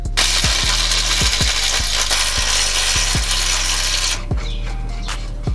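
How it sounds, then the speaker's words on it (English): Wrench work on the power plant frame bolts of an NA Miata, a close series of rhythmic metallic ratchet clicks and knocks, roughly two a second, over a loud broadband shop noise that drops away near the end. "I've got the PPF bolts torqued down now"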